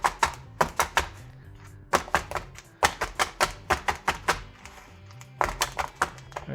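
A disposable muffin tin filled with cornbread batter knocked against a counter in quick bursts of sharp, close taps, several rapid strikes per group with short pauses between.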